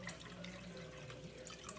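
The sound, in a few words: water being poured into a pot of noodles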